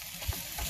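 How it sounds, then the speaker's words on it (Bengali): Onion frying in a pan over a camp stove for Maggi noodles at a riverside summer camp, a soft steady sizzle with a couple of low stirring thumps, close and fairly quiet. "পেঁয়াজটাকে একটু ভালো করে ভেজে নেবো, একটু কষিয়ে নেবো"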